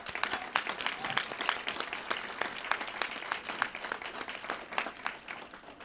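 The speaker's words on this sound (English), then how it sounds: "please join me in a round of applause for all of these heroes" An audience at a Medal of Honor Day event gives sustained applause for the honored heroes, a dense, steady wash of many hands clapping at moderate distance with no talking.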